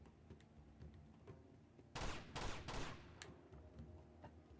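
In Uncharted 2: Among Thieves, a short volley of three or four sharp gunshots cracks out over a quiet background of ambient game noise and faint distant pops.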